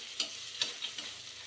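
Masala bath ingredients, including green peas, fry in a pan with a soft steady sizzle and a few light stirring clicks, faint and close, without talk.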